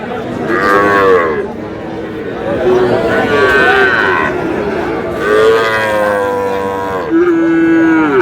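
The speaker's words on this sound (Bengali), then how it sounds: "শাহিওয়ালের ষাঁড়।" A Sahiwal bull at a cattle market lets out three or four loud, drawn-out moos close by, with faint crowd chatter in the background.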